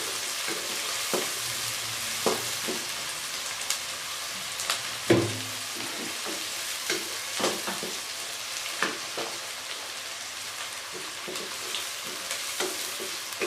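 Onions frying in a pan while being browned lightly for chana pulao, a steady close sizzle with scattered sharper crackles and occasional stirring clinks, no talking.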